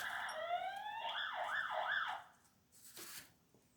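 Emergency vehicle sirens wail faintly in the distance, a rising and falling electronic tone cycling a few times before fading, with no talking over it.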